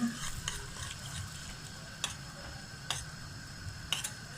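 Butter foaming and sizzling in a pot while browning for şehriyeli lebeni soup: a steady close fry crackle with a few sharp ticks from a utensil scattered through it, no talk.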